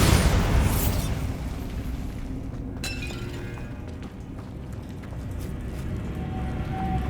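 Bombardo blasting spell in Hogwarts Legacy, a loud shattering explosion that opens with a crack and breaks into a long rumbling, debris-filled wash that slowly fades.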